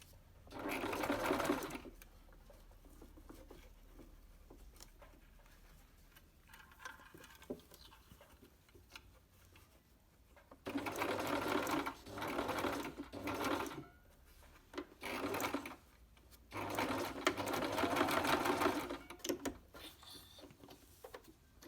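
A sewing machine fitted with a zipper foot stitches a trouser front zipper, giving short bursts of rapid whirring stitching separated by quiet pauses, moderately close.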